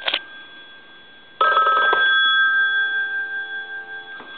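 After a brief opening jingle, a Western Electric rotary telephone connected to a test analyzer rings loudly in a sustained clattering burst, its bright bell tone lingering and fading with a pulsing shimmer.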